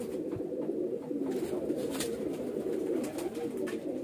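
A highflyer pigeon coos repeatedly up close, soft throaty rolling calls over a low steady background, with a few brief handling noises.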